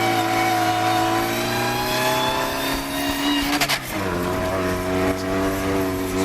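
Racing car engine on a slippery circuit, a steady loud drone that briefly breaks and shifts before settling to a new pitch as the car rounds onto the finishing straight, no talking.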